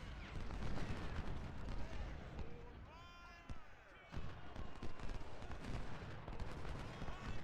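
Dense, rumbling battlefield fire from artillery and musket volleys in the Civil War strategy game Ultimate General, a continuous distant crackle with scattered sharper shots, heard under someone talking.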